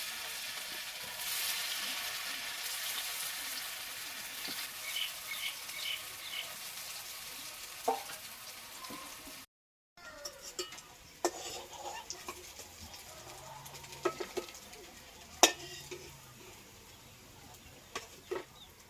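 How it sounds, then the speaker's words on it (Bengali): Pointed gourd (potol) fritters frying in hot oil make a continuous sizzle with occasional sharp utensil clicks, a brief silent gap midway, and faint background noises. "তো একই রকম ভাবে আমি বাকি বড়াগুলোও ভেজে নেব।"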